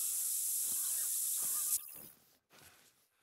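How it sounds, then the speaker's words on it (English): Scent spray applied in the hunting video game theHunter: Call of the Wild, a steady loud hiss lasting nearly two seconds that cuts off abruptly, followed by faint quiet rustling. "I'm gonna put on some scent spray, which should be right here."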